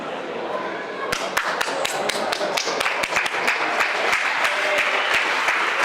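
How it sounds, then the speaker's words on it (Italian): Spontaneous applause breaks out from the press stand at a football award ceremony, a few sharp close hand claps over a dense wash of crowd clapping that builds and holds. "parte un applauso spontaneo dalla tribuna stampa"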